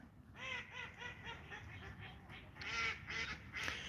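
A noisy duck on open water quacks in a fast repeated series, a run of nasal calls at steady rhythm followed by a few louder honking quacks, heard at a moderate distance against soft outdoor background.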